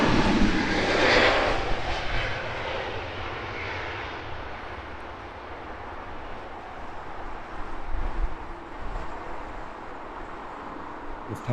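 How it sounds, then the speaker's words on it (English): Lufthansa City Airbus A320neo departing Heathrow for Munich, a broad steady jet roar that is loudest early on and slowly fades as it climbs away, with some wind noise. "Lufthansa City A320 Neo. Flying out off to Munich."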